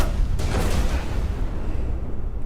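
Heavy, sustained booms and rumbling blasts from an action movie trailer's explosion sequence, loud and dense throughout with no speech.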